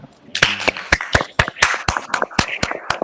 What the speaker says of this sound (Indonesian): sekali lagi tepuk tangan untuk kelompok 2.